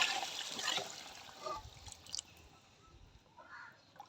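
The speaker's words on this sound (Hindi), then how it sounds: "अब इसमें पानी डाल देंगे।" Water splashes and trickles into a pot of frying vegetables for pulao, loud and close at first and then easing into quieter bubbling and sizzling.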